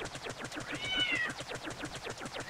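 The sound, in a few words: cat meowing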